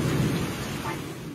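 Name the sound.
rain with thunder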